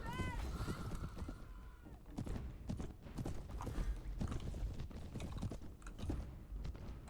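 Horse hooves clip-clop steadily in Mount and Blade: Warband during a cavalry battle, a continuous rhythmic patter under busy battle noise, with a brief tonal call near the start.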